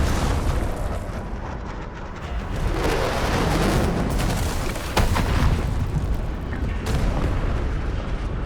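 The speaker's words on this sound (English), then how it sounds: "The UWST will fire at where you've marked." Artillery strike in the Endfield video game landing on a marked spot: a steady roar of rumbling blasts and booms, with sharper bursts near five and seven seconds, loud and continuous with no talk.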